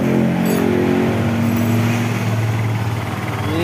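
A motorcycle engine runs at a steady idle close by, a continuous loud rumble with no break, while the battery bolt is loosened during an electrical charging check.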